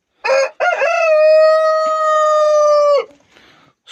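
A Jersey Giant rooster lets out one loud, close crow lasting about three seconds, opening with a short broken note before a long sustained tone that cuts off sharply, with no talking.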